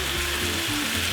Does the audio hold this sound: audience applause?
no